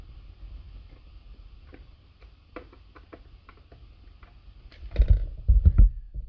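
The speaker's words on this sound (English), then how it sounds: "These will be the small screws that come out." Small screws being removed from a Logitech Z-2300 satellite speaker during repair: quiet scattered metallic ticks and scrapes, then louder clunky handling knocks near the end.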